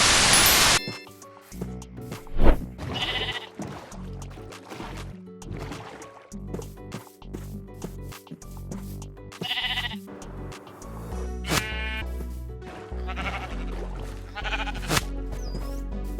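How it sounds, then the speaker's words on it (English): Minecraft sheep bleat several times, scattered among tapping and clicking sound effects and soft electronic tones, with no talking. "now that we got 2 sheep in here, we gotta make them breed"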